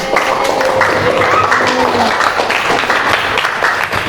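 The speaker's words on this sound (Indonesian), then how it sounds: "Boleh tepuk tangannya" A classroom of students claps for a classmate who has just shared his learning experience, a steady burst of applause mixed with voices and chatter throughout.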